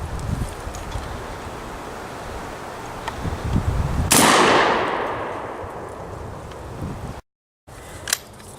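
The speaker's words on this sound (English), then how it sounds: "We're shooting birdshot out of the Savage." A Savage 12 gauge shotgun firing birdshot at a 3/8 steel plate, a single loud outdoor blast with a long decaying roar after several seconds of quiet ambience.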